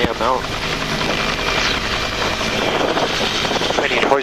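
A Snohomish County search and rescue helicopter hovers close by, its rotor and engine making a steady, loud, unbroken drone, with voices talking over it.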